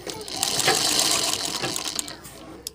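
A sewing machine runs a stitch line while a collar neckline is made, a close, continuous mechanical whir with fine rapid ticking that eases off near the end.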